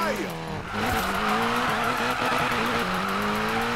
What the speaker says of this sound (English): This thing is such a good car to slide around with.